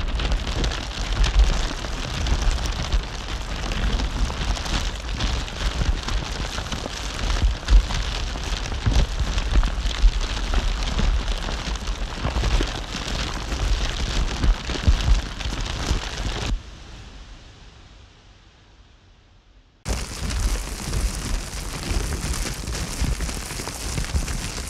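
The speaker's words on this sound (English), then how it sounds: "This is one of the ways to imitate fire" A fire sound effect created without real fire, a dense crackling hiss with a low rumble that runs steadily, fades away into near silence, then resumes abruptly at full loudness.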